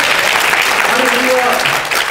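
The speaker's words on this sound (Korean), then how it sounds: "박수 한번 주세요" Loud applause from an audience at a political lecture rally, clapping continuous and close, with a voice briefly audible over it.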